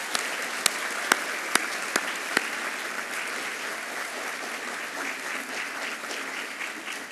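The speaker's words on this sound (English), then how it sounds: "Do you all mind giving them a round of applause?" At a 2016 early college graduation ceremony, the audience applauds for the parents, a sustained, full round of clapping with a few sharp, close claps standing out early on.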